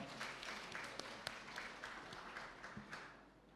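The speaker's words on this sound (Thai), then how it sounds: "ปรบมือให้กับตัวเองสักครั้งได้ไหมครับ" An audience at a political reform seminar in Thailand applauds itself, a quiet, distant patter of scattered clapping with a few sharper individual claps standing out.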